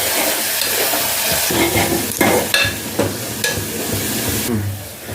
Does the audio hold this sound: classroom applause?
no